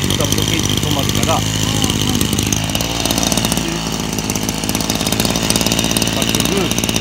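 A STIHL FS240 brush cutter's small two-stroke engine runs loud and steady at close range, buzzing continuously throughout with a voice briefly heard beneath it, while cutting grass on rice paddy banks.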